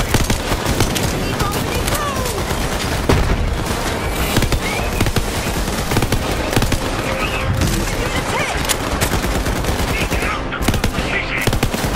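Submachine gun fire in Borderlands 3, loud and dense bursts of rapid shots with booming impacts filling the whole stretch, close and continuous with almost no gaps.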